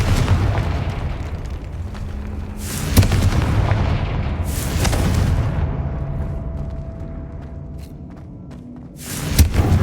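Confringo blasting spells going off in the video game Hogwarts Legacy: a loud, continuous rumble of explosions with several sharp bursts spread across the stretch, the last one near the end.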